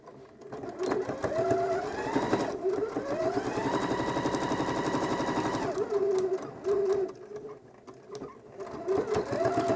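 A sewing machine stitches a seam through fabric in a long continuous run, its motor whirring and needle chattering rapidly, close and fairly loud, slowing and pausing near the end.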